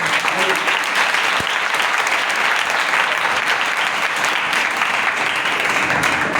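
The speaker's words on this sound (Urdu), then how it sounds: "تو پھر زور سے تالی بجا دیں گے." A church congregation claps loudly during a sermon, a thick sustained roar of many hands at a constant level, close and energetic, with faint voices underneath.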